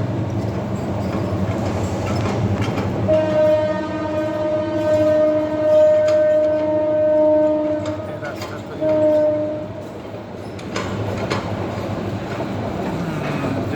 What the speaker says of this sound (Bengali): ট্রেন যাচ্ছে শব্দ শোনা যাচ্ছে